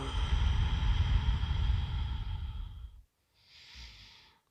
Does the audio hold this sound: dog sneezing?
no